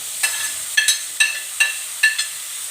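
Tomatoes dropped into frying ginger garlic paste in a pan, giving a steady sizzle with five short bright bursts of crackling as pieces hit the hot oil, with no talk.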